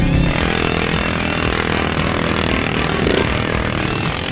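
A 1000cc Razor off-road vehicle roars steadily nearby, a loud, continuous engine drone with no break and no voices over it.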